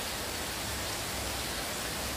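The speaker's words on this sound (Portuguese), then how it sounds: "Foca lá na chuva, olha lá, gente, que coisa linda." Steady rain falls outside a home garage on a weekend, a dense, even hiss with no breaks and nobody speaking.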